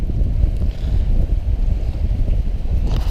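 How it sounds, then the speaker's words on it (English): Gusty wind roars steadily across a lake, buffeting the microphone with low rumbling bursts and a faint hiss throughout. "Windy."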